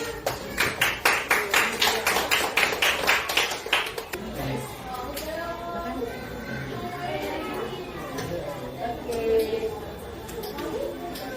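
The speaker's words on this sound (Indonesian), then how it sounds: "tepuk tangan dulu kalian" Children in a classroom clap in a quick, rhythmic burst of about a dozen claps for the first four seconds, then fall into lively chatter and young voices talking over each other.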